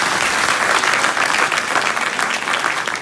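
A crowd at a road safety talk breaks into dense, sustained applause, loud and steady from start to finish with no talking over it.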